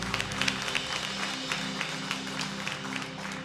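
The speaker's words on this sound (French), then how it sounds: "un bel applaudissement pour ça" Congregation applause at a Haitian church service, a steady wash of many hands clapping beneath a low sustained hum, with a few sharper claps standing out near the start.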